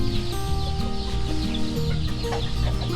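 Bantam chickens cluck continuously close by, their layered calls overlapping steadily for the whole stretch.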